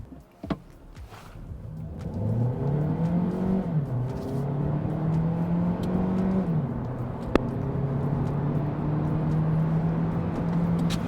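After a short click, a Hyundai Avante hybrid engine revs up hard in sport mode, rising in pitch through two shifts before holding a loud, steady drone.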